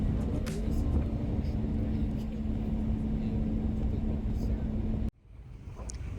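A tour vehicle drives off-road across glacier ice and snow in Iceland, heard as a steady, loud, close engine and road rumble that cuts out abruptly near the end and leaves quieter background noise.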